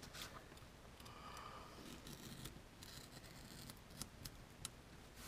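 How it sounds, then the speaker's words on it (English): Scissors or a blade cut through leather welts for an axe sheath, quiet close snipping and scraping strokes in a short series with a few sharper clicks. "Now I'll just go ahead and I'll just cut these welts right out."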